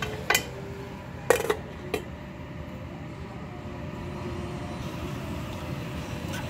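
A metal lid is set onto a cooking pot of jackfruit puzhukku, giving a few sharp clinks and a clattering double knock in the first two seconds, followed by a low steady kitchen hum.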